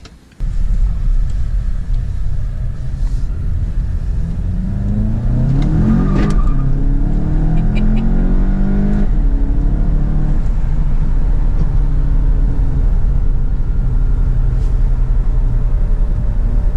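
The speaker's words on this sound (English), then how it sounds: "It's automatic, so you get your DSG farts." Volkswagen GTI with a 2.0 turbo engine and automatic DSG gearbox pulls hard under acceleration, engine note rising and dropping across gearshifts with a brief crackle around a shift, loud and continuous from inside or close to the car.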